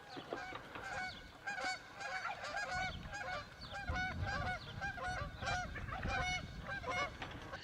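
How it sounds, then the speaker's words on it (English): A flock of Canada geese honking continuously overhead, many overlapping calls at a steady pace, fairly loud and close, with no talking. "Some Canada geese flying over, y'all."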